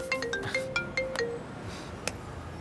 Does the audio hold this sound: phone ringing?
yes